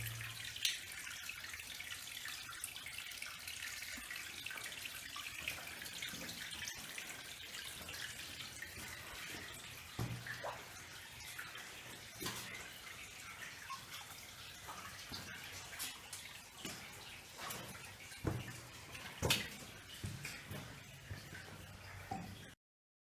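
Water drips through the ceiling of Patton Cave in Hoosier National Forest, a steady wash of trickling water broken by scattered sharp drip splashes, all fairly close.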